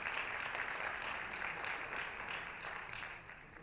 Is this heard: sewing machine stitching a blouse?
no